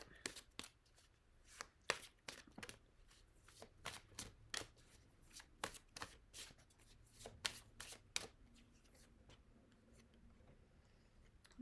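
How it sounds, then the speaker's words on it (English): A deck of tarot cards is shuffled repeatedly, with rapid papery slaps and ticks in an uneven rhythm, quiet and close, no talking. "I'm just going to shuffle the deck till I'm guided to stop."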